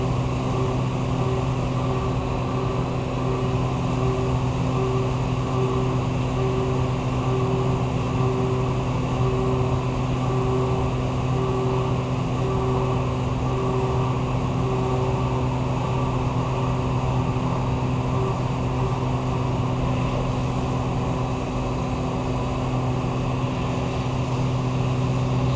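Steady droning hum of a CNC mill spindle running at 7,600 RPM, a continuous tonal whine and machine noise with no break, close and moderately loud throughout.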